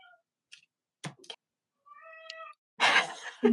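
A pet cat meows several times indoors, short close calls spaced out with brief pauses, including one longer drawn-out meow, followed by rustling noise.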